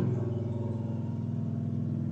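Deep, loud droning exhaust rumble from a nearby car running without its catalytic converter, steady and throbbing, heard from inside a Tesla Model 3 on the road.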